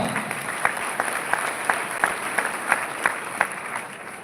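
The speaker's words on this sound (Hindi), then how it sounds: "सुरेंद्र सर के लिए जोरदार तालियां एक बार।" Audience clapping for a welcomed guest at a live motivational event, a steady crowd applause with sharp rhythmic claps rising above the wash of hands, moderately close and continuous throughout.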